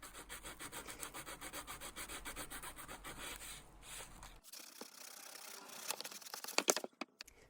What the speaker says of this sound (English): So here I'm using a traditional oil stone.